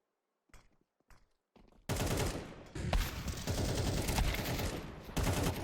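Gunfire in a Counter-Strike match opens with a few sparse sharp shots, then erupts into loud, sustained rapid firing.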